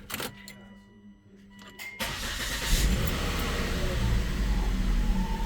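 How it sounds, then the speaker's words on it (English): A Volvo T5/T6 engine starts with a loud roar and keeps running close by with belts removed, a harsh squeal from a failed PCV valve riding over the steady mechanical rumble. "there is a really loud squeal, even while the belts are off and the engine's running."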